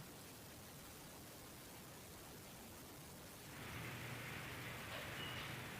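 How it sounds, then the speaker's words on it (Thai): Steady hiss of morning rain falling in Bangkok, even and continuous, growing slightly louder and brighter partway through, with no voices. "เช้านี้ก็ฝนตกแต่เช้าเลยจ้ะทุกคน"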